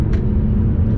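Fiat Toro Volcano 2.0 diesel under hard acceleration on a highway, a loud, steady low engine drone with road and wind rumble filling the cabin, no voices.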